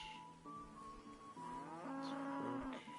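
Lowing from a cow in the medieval game Kingdom Come Deliverance: several sustained moos in a row, rising and bending in pitch, loud and close, with nothing else over them.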